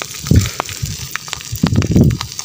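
Fish grilling over a strong open fire outdoors, with crackling pops and ticks over low, gusty roaring bursts of flame, close and fairly loud.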